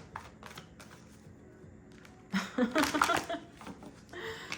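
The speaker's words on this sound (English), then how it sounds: "this card literally flipped out of the deck as I was shuffling" A deck of oracle cards is shuffled by hand, a quiet riffle followed by a louder burst of rapid flicking and card slaps, with some soft vocal sounds around it.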